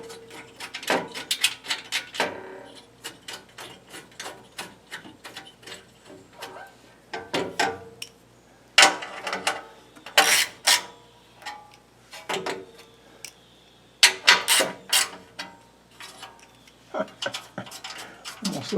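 Ratchet wrench tightening bolts on undercarriage cover plates of a 2022 Toyota Tundra, bursts of rapid clicking repeated in short irregular runs with pauses between, close and fairly crisp.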